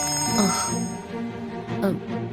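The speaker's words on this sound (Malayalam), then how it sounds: "ഈ ഫോൺ അടിക്കുന്നു" A telephone rings indoors in a domestic drama scene, two warbling ring bursts over a steady tonal background hum.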